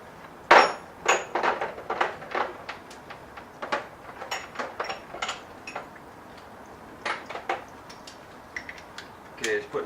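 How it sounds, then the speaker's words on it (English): Metal socket set pieces clatter and click together in irregular bursts while a spark plug socket is fitted for a 2006 Toyota Corolla plug change, close and fairly loud, with faint talk at times. "just putting the socket set together. I'm going to put the spark plug socket on"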